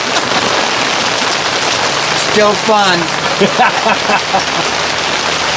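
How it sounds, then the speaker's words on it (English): Steady rain patters on a surface at a high desert campsite, a continuous close hiss, while a person briefly speaks partway through. "now we're going to get some more rain"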